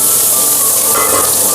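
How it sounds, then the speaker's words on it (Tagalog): Bitter gourd (ampalaya) and eggs frying in a pan, giving a loud, steady, close sizzle throughout. "lutuin lang natin ang ampalaya with egg"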